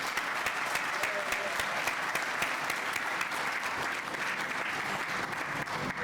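A large crowd at the ACT building and construction industry apprentice awards applauds steadily and loudly for six seconds, a dense continuous wash of clapping with a slight dip in intensity partway through.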